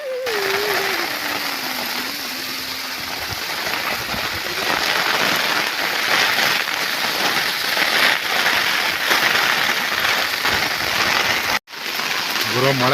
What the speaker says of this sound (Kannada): ಗುರು ಮಳೆ ನಮ್ಮನ್ನ ಇಲ್ಲಿ ಇರೋಕ್ಕೆ ಬಿಡ್ತಾ ಇಲ್ಲ